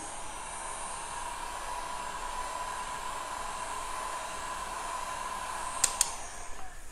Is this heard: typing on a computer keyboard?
no